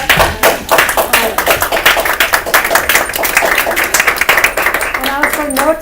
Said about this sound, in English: we all stand and clap